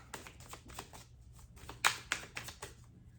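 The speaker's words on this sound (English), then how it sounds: "the cards are a bit tricky to shuffle" Light, irregular papery flicks and riffles of tarot cards being shuffled, with a sharper snap in the middle, close and fairly quiet.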